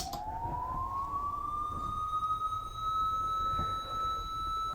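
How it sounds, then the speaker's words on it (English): A single pure synthesized police-siren tone, made by pitching a sine wave up and down with slight radio-like distortion, sweeps upward and holds steady like a siren wail, loud and clean over a low background rumble. "Just by pitching up and down a sine wave, because that's what a police siren is."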